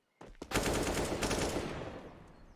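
Counter-Strike gunfire on the Inferno map in a pro match: a sustained burst of rapid automatic shots rattles for about two seconds, dense and steady, then trails off.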